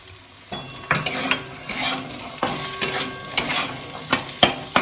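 Soaked chickpeas are tipped into a frying pan and stirred, bursts of sizzling with repeated scraping and clinking strokes of the spoon, close up and without speech.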